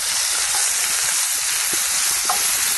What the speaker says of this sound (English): Now this is probably going to cook, being tossed around in this pan for about at least 10 to 15 minutes.